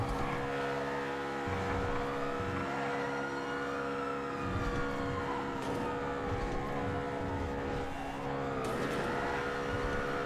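A damaged, scuffed car's engine revs and whines through shifting gears in a video game, its rough tone rising and falling, with occasional scraping bursts; motor sound without speech.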